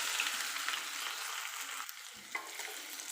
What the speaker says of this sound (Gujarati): બધા મૂઠિયાને તેલ સાથે મિક્સ કરી લઈએ